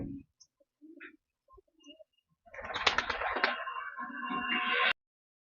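Pet pigeons cooing in a backyard loft, a few soft scattered coos at first, then a denser burst of cooing and fluttering activity close by for a couple of seconds before it cuts off.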